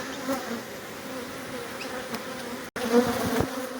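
Defensive honeybee colony droning steadily during a hive relocation from a wall cavity, a dense close buzz of many bees with a brief cutout near the end before the swarm sound resumes louder.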